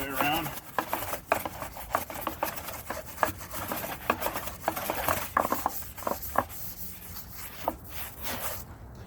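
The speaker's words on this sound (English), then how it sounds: "I'll scrub in these recessed areas. It's a nice hard bristle brush" A hard bristle brush scrubs a car wheel during detailing, producing rapid, close, scratchy rubbing strokes in uneven bursts with short pauses between them.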